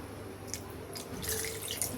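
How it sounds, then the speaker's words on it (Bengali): Water poured into a cooking pot of potato curry being prepared, a faint splashing trickle that grows a little busier midway, quiet and close with no talk. "একটু পানি দিই,"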